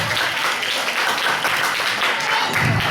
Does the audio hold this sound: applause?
yes